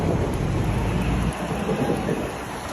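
Rain falls on a New York City street, a steady, dense hiss of drops with a low rumbling undertone, continuous and fairly close, with no voices.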